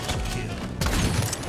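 Gunfire in a Halo 5 Infection match, a dense rattle of rapid shots with heavy low thumps that continues steadily and grows louder partway through.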